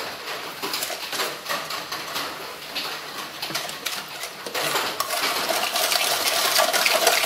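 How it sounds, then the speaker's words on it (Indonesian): Water poured into a sweetened condensed milk pudding mixture for layered Surabaya pudding, a steady splashing trickle close by that grows fuller and louder toward the end, with no talking. "Terus airnya ini saya tambahkan sedikit dulu."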